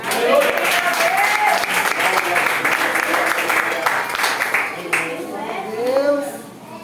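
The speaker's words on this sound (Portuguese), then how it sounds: "Você pode aplaudir Jesus" A church congregation applauds during a Portuguese-language service, rhythmic hand claps rolling steadily for several seconds while a voice speaks and shouts over them, fading near the end.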